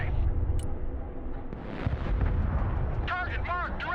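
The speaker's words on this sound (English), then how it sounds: "MLRS ready to fire." Rocket artillery from an MLRS launcher firing in the war game Broken Arrow, a sustained rumbling barrage of launches and blasts with radio-style voice chatter over the top.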